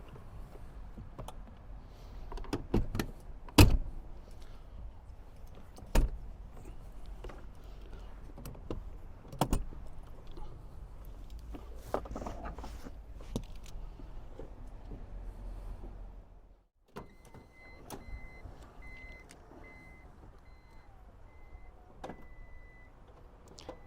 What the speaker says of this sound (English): So all the doors and the back doors can be controlled by the keys.